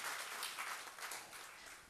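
Audience at a felicitation ceremony for a central library's head librarian at NIT Warangal clapping, a dense continuous round of applause from many hands, fairly distant and steady throughout.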